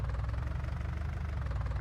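An old tractor engine idles in Farming Simulator 19, a steady low throbbing rumble with a slight knocking pulse, close and continuous with no talking.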